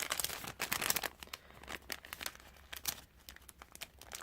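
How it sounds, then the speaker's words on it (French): Masking tape crinkles and tears in short bursts of crumpling as it seals an ATC package, close and fairly faint, with irregular rustles throughout. "Et je vais fermer avec cette très jolie masking tape."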